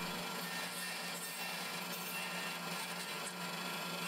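A table saw cuts a slot in a wooden jig piece, a loud, steady, continuous broadband whine and rasp that holds evenly throughout without pauses.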